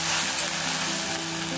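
Okra fries in a pan with a dense, steady sizzle, loud and close, with a faint scrape of stirring and no voices.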